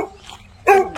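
A dog lets out a single sharp, close bark near the end of a short, otherwise quiet moment.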